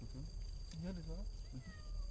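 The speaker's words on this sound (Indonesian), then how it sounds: "Ada kucing. Kucing hutan, kan kucing hutan ada" A cat in a forest at night lets out several wavering meows close by, rising and falling in short bursts, with quiet background hum and a person murmuring softly.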